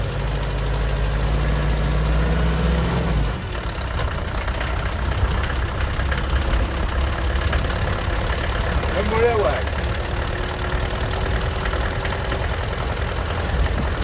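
Mercedes 308D motorhome diesel engine running while driving in first gear, a steady low rumble with a constant drone that stays close and even throughout, faint talk underneath.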